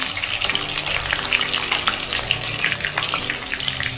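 Garlic crackles and sizzles steadily in hot oil in a pan while cooking a prawn curry, close and continuous.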